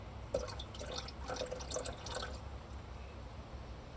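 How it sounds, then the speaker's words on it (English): Water trickles and drips into a container in a short burst, splashing briefly before settling into quiet background hum. "we're going to pour a little bit of water"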